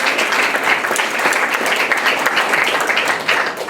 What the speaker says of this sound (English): maybe we give her a big hand of applause